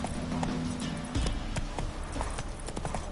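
Horse hooves galloping in The Witcher 3, a rapid repeating clip-clop at close range in steady rhythm, with a quick heavier thud about a third of the way in and ambient rumble underneath.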